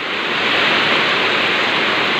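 Heavy afternoon rain in Pinugay, Baras, Rizal pours down as a dense, steady hiss, loud and close throughout with no gaps or voices.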